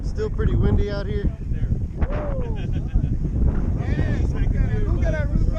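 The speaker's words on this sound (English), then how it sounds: "Still pretty windy out here." Strong wind at a lake during a camping and kayak fishing trip buffets the microphone with a constant low rumble, while several people talk over it throughout.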